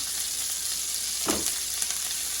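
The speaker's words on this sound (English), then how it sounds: "So we're going to add some grease to the pan" Pastured pork lard melting in a very hot pan gives a soft, steady sizzle, close by, with one brief clunk partway through and no voices.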